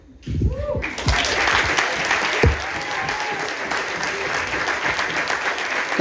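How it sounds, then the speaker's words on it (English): Wedding guests break into loud, sustained applause and cheering for the best man's speech at a reception, a dense crowd of clapping hands filling the room with some voices mixed in. "Big round of applause for the best man, folks."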